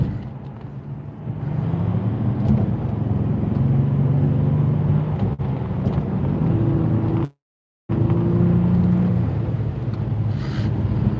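Twin-turbo 6.0-liter engine of a GTC car idling and rumbling close by, a steady low drone with a brief dropout partway through.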